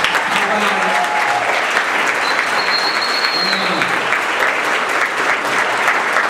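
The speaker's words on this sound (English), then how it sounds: "If there's any military here, I'd give them a round of applause" Sustained audience applause fills a hall at a film festival awards ceremony, steady and dense for several seconds, with faint voices in the background.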